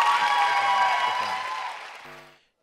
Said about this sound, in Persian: ممنونم از تشویق صمیمانه شما